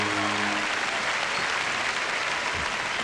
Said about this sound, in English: Give Jonathan a big round of applause